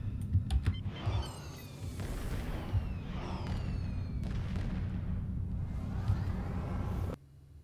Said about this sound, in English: And fireworks apparently today.